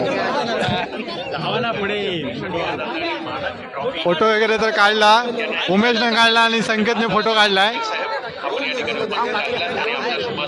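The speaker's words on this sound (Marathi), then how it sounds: "पण खूप गर्दी आहे" A large, packed crowd chatters all around at a village cricket outing in Devgad, with close conversational voices layered over the steady, dense murmur and occasional bursts of laughter.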